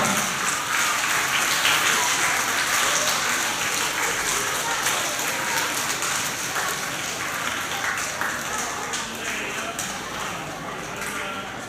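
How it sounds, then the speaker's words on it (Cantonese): Audience applause at a Hong Kong school year-end award ceremony for senior students, a dense sustained clapping from a large crowd that fills the hall, fading slightly toward the end. "請大家咧一次過俾掌聲，陳俊康同學"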